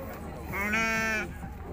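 A single drawn-out sheep bleat rings out nearby, wavering and nasal, amid the murmur of a busy crowd at the Urzhar livestock market.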